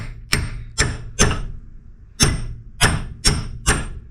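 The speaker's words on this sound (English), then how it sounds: "I'm going to hammer on my ball joint fork" Seven heavy hammer blows on a ball joint fork, separating a Ford Fiesta's lower control arm ball joint, close and loud, in two quick groups of three and four with a short pause between.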